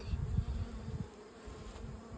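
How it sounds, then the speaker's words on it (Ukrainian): Honey bees buzz close by at an open beehive during frame work, a steady low drone with a few louder passes near the start, fading slightly but continuing throughout. "Бджолка прилетіла до мене."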